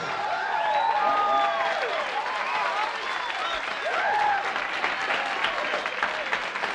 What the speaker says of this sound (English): a special round of applause for our star attraction, Miss Silverdale